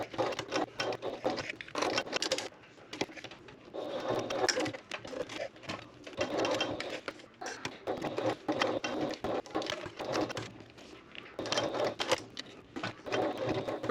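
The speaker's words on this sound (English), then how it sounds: "we're going to go to the sewing machine and top stitch around our bottom edge of our handle" A sewing machine top-stitches along the bottom edge of a tote bag handle in quick, chattering bursts separated by short pauses, close and moderately loud.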